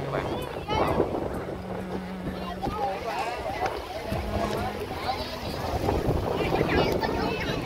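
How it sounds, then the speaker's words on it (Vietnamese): Strong wind buffets the microphone while riding a RAIDER FI 150 motorcycle on a holiday trip in Vietnam. The roar is continuous and loud, with a voice talking throughout. "Quá trời gió luôn các bạn,"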